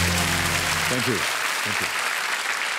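Studio audience applause on a televised quiz show set, a dense wash of clapping running throughout while a voice speaks over the start and a short musical sting sounds beneath.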